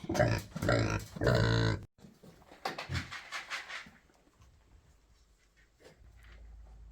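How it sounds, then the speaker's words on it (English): A pig gives several loud, close grunts and snorts in quick bursts, then quieter snuffling and shuffling follow. "Pig's trying to bust out."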